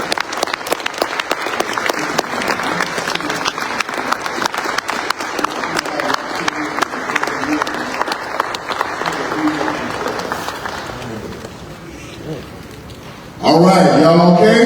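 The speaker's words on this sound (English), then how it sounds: "Get on your feet and give them a round of applause." An audience on its feet at a community gathering gives dense, sustained applause that stays full for about ten seconds, then fades to near quiet before a loud voice starts speaking.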